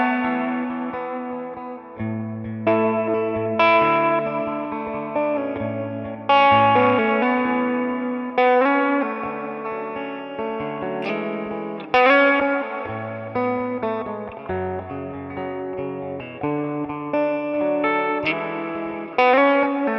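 An electric guitar played through a simple pedalboard of fuzz, compressor and booster into a Two-Rock Bloomfield Drive amp rings out in strummed chords and melodic phrases, with a driven, sustaining tone and no talking.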